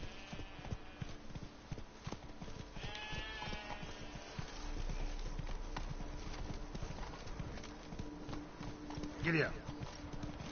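Hooves of the horse Roach clip-clopping steadily at a walking pace in The Witcher 3, with ambient game sounds and animal bleats around, plus bits of voice in the background.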